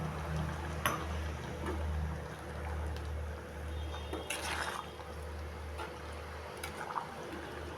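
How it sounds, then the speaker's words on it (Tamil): Water is poured into a thick simmering goat intestine curry with eggplant, giving faint liquid splashing and bubbling over a steady low kitchen hum, with a few brief louder splashes. "கொஞ்சமாக தண்ணி சேர்த்துக்கிறோம்"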